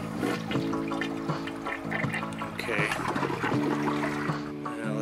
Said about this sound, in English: Come on, flush down the toilet.